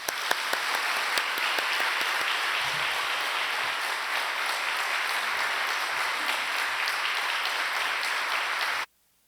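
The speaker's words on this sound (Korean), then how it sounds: "우리 목사님 나올 때 감사와 또 뜨거운 격려의 박수 우리 보내드리겠습니다" A church seminar congregation giving warm applause to welcome a pastor, sustained dense clapping with a few sharp claps standing out at the start, continuing steadily before stopping abruptly.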